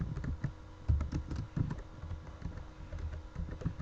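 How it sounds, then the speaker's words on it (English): Keys on a computer keyboard are tapped while a food name is entered into a search bar, producing a close, uneven run of clicks with a few heavier strokes. "Type in bean sprouts into the search bar and once again click search."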